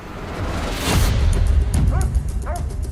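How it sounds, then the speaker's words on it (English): A dog barks in a few sharp, yelping bursts amid dull thumping commotion, the yips coming close together and fairly loud before trailing off. "The dog's barking."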